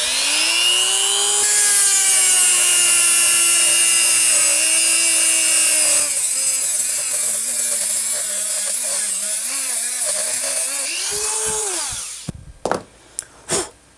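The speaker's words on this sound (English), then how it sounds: "Now I'm going to cut mine with a little cutting disc on this rotary tool" A small rotary tool with a cutting disc slices through a tube clamped in a vise while a surf-casting jig lure is being made. A loud, steady high whine holds for about twelve seconds, then cuts off with a few brief clatters.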